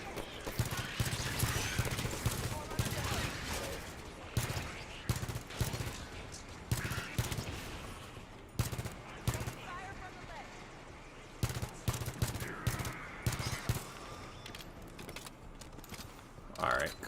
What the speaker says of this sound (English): Small controlled burst, right? I believe that is the best method of shooting.